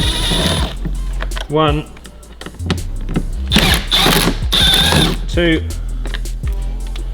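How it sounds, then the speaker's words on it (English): An electric screwdriver makes two short whirring bursts while backing Phillips-head screws out of a VW T4 grab handle, each burst separated by a man's spoken counting nearby. "In this case, I'm going to use my electric screwdriver."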